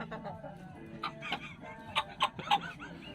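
Chicken clucking in short bursts at close range, a few sharper calls near the end, with people talking over it.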